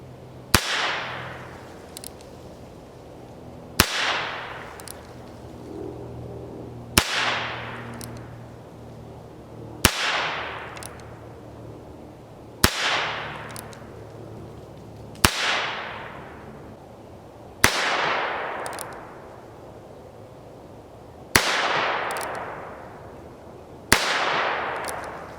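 A Heritage Rough Rider .22 Magnum revolver fires CCI Maxi Mag rounds outdoors: about eight sharp, snappy cracks, each followed by a fading ringing decay, spaced a few seconds apart with no talking.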